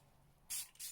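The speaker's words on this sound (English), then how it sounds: "I'm going to take my Ellie Gloss setting spray and I'm going to use that to set." Makeup setting spray misted onto a face in two quick bursts, a loud airy hiss that cuts in after a quiet start, pauses briefly, then returns.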